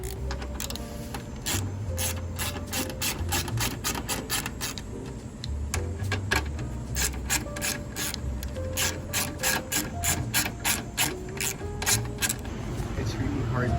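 A hand ratchet loosening screws on the coolant expansion tank of a Mercedes SLK230, with bursts of rapid clicking pawl strokes separated by brief pauses, close and crisp.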